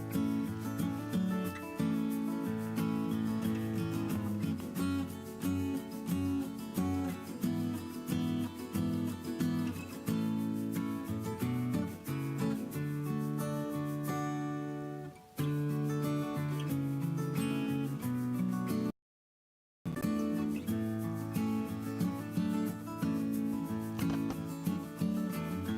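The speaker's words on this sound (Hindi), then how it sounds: "अब हम हरा धनिया और लहसुन का पेस्ट बनाएंगे।" An electric mixer grinder whirs continuously, blending green coriander and garlic into a paste, steady and close, with a brief stop partway through and no talk.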